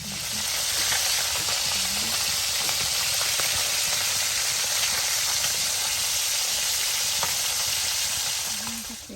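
Matambaka fish frying in a pan: a loud, continuous hissing sizzle with fine popping that runs steadily for several seconds, close by and without talk.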